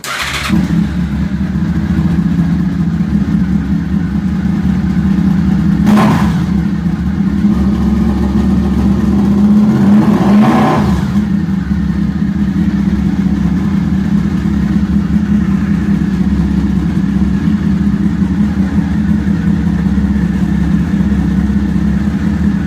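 A fifth-generation Honda VFR motorcycle engine idles with a steady, loud, close rumble, and two brief revs rise sharply around the middle. No one talks.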